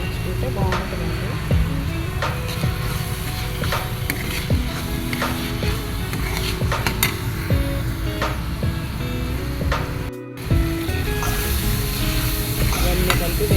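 A tomato prawn curry with raw prawns, eggs and drumsticks sizzles in a pan as it is stirred. The loud, continuous frying hiss is broken by frequent scraping and clinking stirs, with one brief pause partway through.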